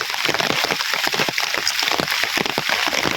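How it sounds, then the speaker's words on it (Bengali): Heavy rain pours down in a village, a dense steady patter and hiss of drops striking surfaces close by, continuous and fairly loud with no talking. "কারাকারি বালা বৃষ্টি"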